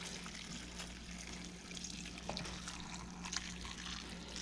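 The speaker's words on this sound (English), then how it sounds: "We're going to take this and pour it over our Napa cabbage." Hot salted water trickles and pours over Napa cabbage, a faint, continuous liquid splash with scattered small drips and no talk.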